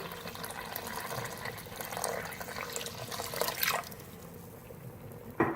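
Water pours into a pot of beef trotter curry with a close, splashing gurgle that swells and then stops, followed by a short metallic clink.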